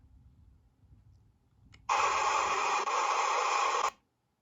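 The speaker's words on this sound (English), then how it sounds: "at least you get to see the jump scare" A sudden, loud burst of harsh static-like jump scare noise from the game Five Nights at Candy's 3 erupts and holds for about two seconds, then cuts off abruptly into silence.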